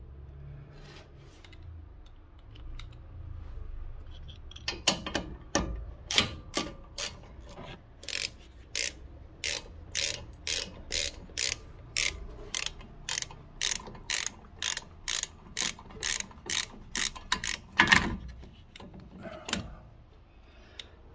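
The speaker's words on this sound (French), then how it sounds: "ici pour démonter les vis qui tiennent donc l'étrier, on a une douille ici de 7" A ratchet fitted with a 7 mm Allen socket loosens the brake caliper bolts on a Seat Altea XL. A long, evenly spaced run of loud clicking strokes plays alone, bracketed by a few metallic knocks.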